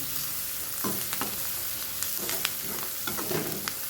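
Chopped onions sizzle steadily in a pan for a simple tempering with no turmeric or masala, with a spatula scraping and stirring in several distinct strokes close by.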